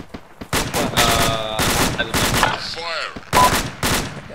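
Heavy gunfire in the video game Arma 3, loud clustered automatic bursts and sharp shots hammering close by in rapid sequence, with a brief radio beep and garbled voice-like chatter between volleys.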